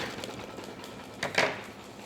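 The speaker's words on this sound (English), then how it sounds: "So we let this embroider, and I'm gonna let that keep going for just a minute" An embroidery machine stitches a design onto fabric, giving a faint, rapid, even ticking and clatter with a couple of slightly louder bursts near the end.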